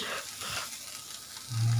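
Chopped chillies and garlic fry in hot oil as a steady, moderately quiet sizzle over about two seconds, with a low hum swelling near the end and no voices.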